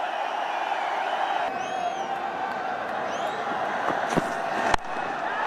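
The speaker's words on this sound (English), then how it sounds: "And again, the crowd's loving it." A cricket stadium crowd cheers a big shot, a dense, steady roar of many distant voices with whistles and whoops rising over it and a sharp knock near the end.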